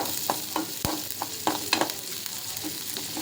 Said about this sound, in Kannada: ಇದು ಉಳ್ಳಾಗಡ್ಡಿ ಹಿಂಗೆ ಫ್ರೈ ಮಾಡುವಾಗ ಅದು ಎಣ್ಣೆ ಅದೇನು ಸ್ಮೆಲ್ ಬರ್ತಲ್ಲ